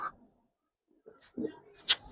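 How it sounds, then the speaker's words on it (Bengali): Pigeons in a loft give a few short, soft coos and rustles, close by, with gaps of near silence between and a thin high whistle near the end. "অনেক কবুতর আছে ইনশাল্লাহ"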